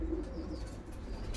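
A pigeon coos with low, soft, rolling notes, heard close and alone against a faint background hum.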